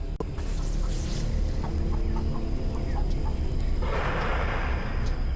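Chickens clucking and fussing together in a steady, busy chorus, with a burst of agitated squawking near the end, no talking.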